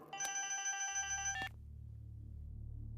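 A telephone rings with a bright electronic trilling tone for about a second and a half, then cuts off and leaves a low steady hum.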